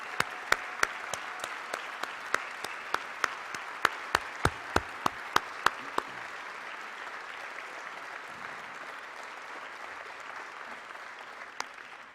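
A team gets a round of applause at a coach's press conference: brief crisp claps, fairly sparse, fade out after about six seconds and leave a quiet room with a stray clap near the end.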